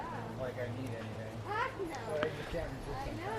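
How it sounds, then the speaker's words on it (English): Background chatter from a yard sale, several voices including children talking and calling out at a distance, steady and continuous under a low hum. "if you can hear people in the background, it's because we're still doing a yard sale here"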